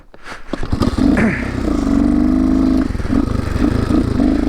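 A vehicle engine drives down a trail in low gear, a steady loud hum with a clattering, scraping start that settles into a continuous drone.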